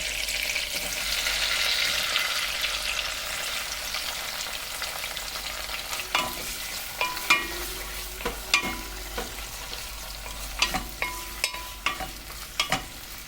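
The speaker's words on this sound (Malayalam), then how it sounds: "ഇത് നമുക്ക് അരിഞ്ഞെടുത്തിട്ടുള്ള സവാള ഇതിലേക്ക് ചേർത്ത് കൊടുക്കാം." Two chopped onions frying in a pan for chili prawns, a steady sizzle that is joined midway by repeated sharp scrapes and clacks of stirring, close and alone.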